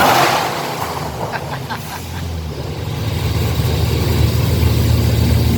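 The supercharged engine of a 2014 Ford GT500 with TVS blowers runs loud and close, a heavy, steady roar that swells gradually over several seconds.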